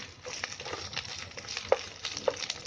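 Ginger-garlic paste frying and splattering in hot oil with onions for dill-leaf bhaji, a steady close crackle with sharp pops spattering throughout.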